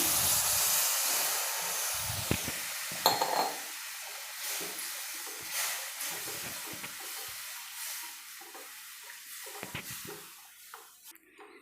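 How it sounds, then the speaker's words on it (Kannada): Water poured into a hot pan of spinach and garlic curry sets off a strong hiss of steam that slowly dies down, broken by a few knocks of metal against metal. "ಈಗ ನೀರು ಒಂದು ಗ್ಲಾಸ್ ಆಗೋಷ್ಟು ನೀರು ಸೇರಿಸ್ತಾ ಇದ್ದೀನಿ"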